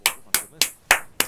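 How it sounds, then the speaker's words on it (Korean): Five sharp hand claps, close and loud, spaced at a slightly uneven steady pace with brief decays between them, during a League of Legends esports match broadcast. "박수 한번 칩시다."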